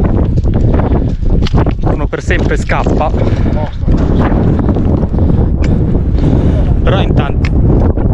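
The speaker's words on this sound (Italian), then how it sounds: "Allora, si è scatenato il vento." Strong wind roars and buffets the microphone nonstop on the summit of Monte Scorluzzo, loud and gusty throughout while someone talks over it.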